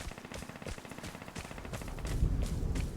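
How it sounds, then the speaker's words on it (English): Automatic gunfire in the multiplayer shooter Vigor, rapid bursts of shots cracking in quick succession, fairly close and continuous, then heavier booming impacts join in toward the end. "people are already shooting each other"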